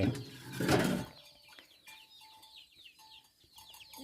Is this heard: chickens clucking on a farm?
yes